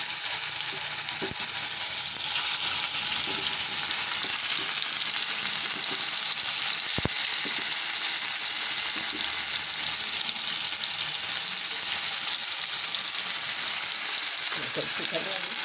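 Greens fry in hot oil while being stirred, producing a loud, dense, continuous sizzle close up, with a few faint knocks underneath.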